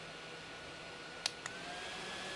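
Wonders Living Breeze King WF70 mini cordless fan running on speed three, a steady airy whoosh with a faint motor whine, two short clicks midway, near and alone.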